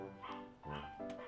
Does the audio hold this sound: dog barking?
yes